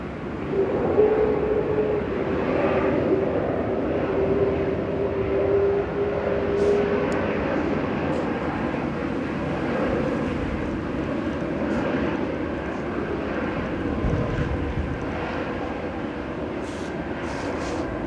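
A Ryanair Boeing 737-800 on short final to runway 05R at Manchester Airport, a steady loud jet engine roar sustained throughout, with broadband rumble and a faint tonal whine, near and continuous with no talk.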